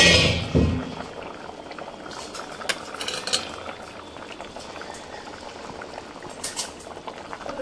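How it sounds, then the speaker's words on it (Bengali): A vegetable curry with mankochu (giant taro) boils hard in a pot, with steady bubbling and gurgling throughout, a few sharper pops near the start, and no voices. "ঝোল দিয়ে টকবক করে ফুটছে"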